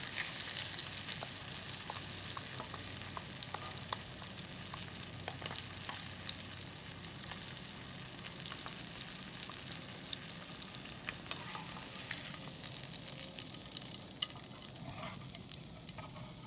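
Smelts fry in oil in a pan with a continuous crackling sizzle and scattered sharp pops. The sound is close and steady throughout, with no talking.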